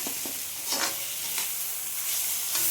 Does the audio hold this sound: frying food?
yes